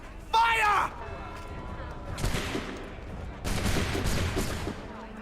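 A musket volley erupts in the Assassin's Creed III Remastered video game: a shouted voice first, then two broad rolling bursts of massed gunfire, each lasting about a second, loud with a dense crackling tail.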